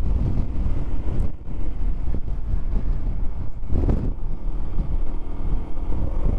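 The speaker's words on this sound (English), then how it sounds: "Curious to see what the engine sounds like over and above the wind." Steady, loud wind buffeting a helmet microphone while riding a motorcycle, with a low engine drone underneath; a brief gust swells near the middle, and no one speaks.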